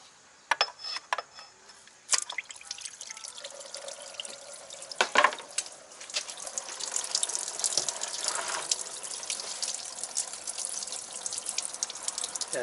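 Engine coolant from a Honda/Acura V6 dribbles and splashes out where the water pump has been removed, a close irregular trickle broken by a few metallic clanks of tools and parts, with no voices.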